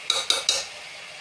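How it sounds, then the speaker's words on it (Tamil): Chicken biryani with biryani masala gets stirred in a pot: three quick scraping clinks of a spoon against metal, close and fairly quiet, then a soft fading hiss. "ஸோ மொத்தமாக நம்ம நல்லா கிளறி விட்டுக்கலாம்"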